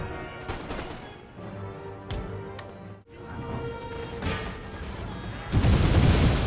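Musket volleys on a Total War: Empire battlefield: several sharp cracks and crashing reports scattered through the clip over a busy battle din, ending in a loud, dense rumble of massed fire.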